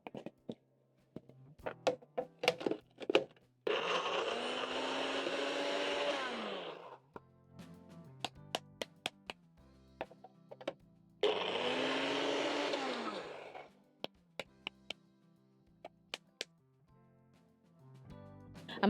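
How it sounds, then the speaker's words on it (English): Kitchen blender pureeing cooked carrots, running in two loud sustained bursts of several seconds each, with clatter and knocks between and around them. "going to transfer the carrots in and blend into a puree"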